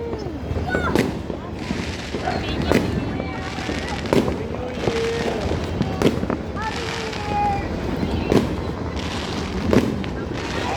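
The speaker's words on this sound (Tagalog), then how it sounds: "Fireworks! Fireworks!" New Year's fireworks pop and bang repeatedly at irregular intervals, some sharp and close, others muffled, while people shout and talk excitedly in the background.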